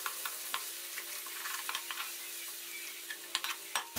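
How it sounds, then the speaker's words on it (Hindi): Ginger, garlic and tomatoes with green chillies fry and sizzle in a pan, a steady crackling bed broken by occasional stirring scrapes, close and fairly quiet, with no talk. "हमारा अदरक लहसुन जो अच्छे से भुन गया और टमाटर भी मिक्स होने लगे हैं"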